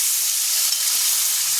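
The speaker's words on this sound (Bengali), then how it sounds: "তো আমি যে মাংসটা তেলে দিলাম, তো এই মাংসটা একটু হালকা ভেজে নেব।" Pieces of chicken meat fry in hot oil, a constant bright sizzling hiss that stays loud and close for the whole short stretch, with no voices.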